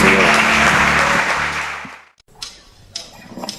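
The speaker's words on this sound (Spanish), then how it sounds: "Un aplauso," A church congregation applauds loudly for about two seconds, then the clapping cuts off, leaving a few scattered sounds.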